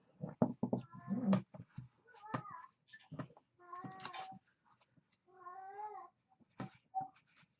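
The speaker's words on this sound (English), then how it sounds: "that's my cat in the background" A cat meows repeatedly, several drawn-out, wavering cries close by, mixed with a few short sharp noises and pauses between calls.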